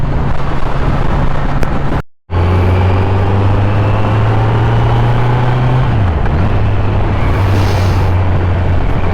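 A 2021 Kawasaki Z900 motorcycle cruises through city traffic on OMR, its engine a steady loud drone with a pitch that rises and falls as the rider shifts, and wind rushing over the microphone, broken by a brief dropout.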